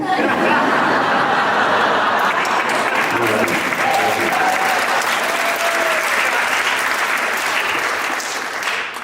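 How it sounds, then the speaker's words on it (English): An audience applauds steadily and densely, loud and close, with scattered chuckles and laughter mixed in for the whole stretch. "Everybody starts applauding."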